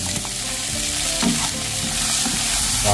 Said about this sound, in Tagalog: Tapos yung ating carrots, igisa na natin